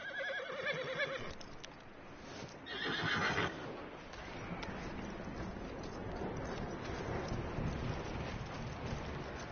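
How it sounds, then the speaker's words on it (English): A video-game horse whinnies loudly near the start, followed by hoof clip-clops and a steady rumbling background like rain. "That looks like a decent horse."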